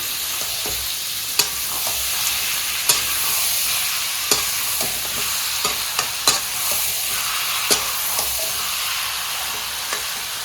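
Goat meat fries with spices in a pan, giving a dense, continuous sizzle with periodic clinks and scrapes of a ladle stirring, close and steady throughout.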